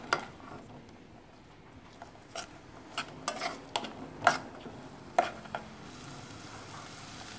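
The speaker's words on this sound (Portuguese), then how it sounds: "Agora eu vou refogar essa verdura." Vegetables with seasoning sauté in oil in a pan, giving a soft, low sizzle broken by several sharp stirring clacks and scrapes against the pan, close and quiet.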